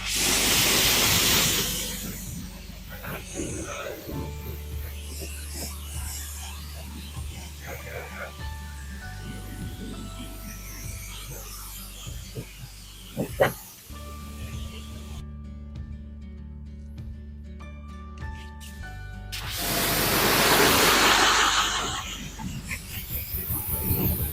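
Cleaner sprayed across a car engine bay in hissing bursts, loudest at the start and again near the end, with quieter stretches between and a person talking over it.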